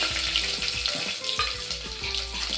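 Whole spices crackle and sizzle in hot ghee and oil, a dense close frying hiss with small popping bursts throughout, no voices.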